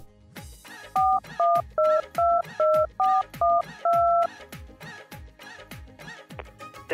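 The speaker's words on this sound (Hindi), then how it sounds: "ला, फोन मिलाऊं।" A string of about ten electronic dial tones, each a short two-pitch beep at a steady rhythm, with the last one held longer, over quiet background noise.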